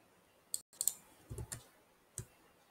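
A few quiet computer mouse clicks, spaced irregularly as single and paired taps, faint and close against near silence.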